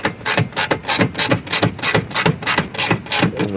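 A T27 Torx driver clicks rapidly as it tightens a fastener on a base plate of a 2019-2023 Alfa Romeo Giulia, giving a close, loud, regular ratcheting rhythm of about a dozen strokes, with no speech.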